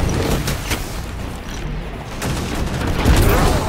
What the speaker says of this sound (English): There's enough explosions